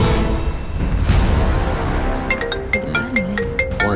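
A phone ringtone sounds for an incoming call in a Tamil TV serial scene, its bright repeating melodic tones rising clearly over a busy background for the last couple of seconds.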